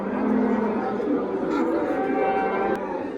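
A cow at a cattle market in Parkent, Tashkent gives one long, loud, close moo that fills the whole moment, with faint crowd murmur behind it.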